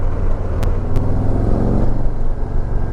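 A Harley SGS M8 motorcycle engine pulls from idle with a close, steady, deep rumble that holds a fairly even level throughout.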